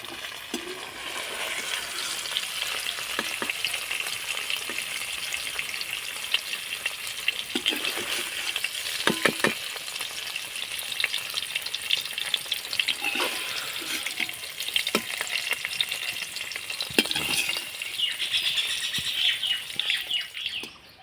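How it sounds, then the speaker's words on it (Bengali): Paneer pieces frying lightly in oil, a steady close sizzle running throughout with occasional sharper pops and spatters. "তো পনিরগুলোকে আমি হালকা ভেজে নিয়েছি হয়ে গেছে তুলে নেবো"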